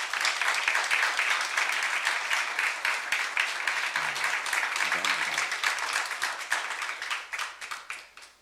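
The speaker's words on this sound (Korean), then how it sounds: "우리 영광 형제한테 격려의 박수 한번 보내줄래요?" A church youth-service congregation claps together in steady, dense applause that keeps an even level for several seconds, then tapers off toward the end.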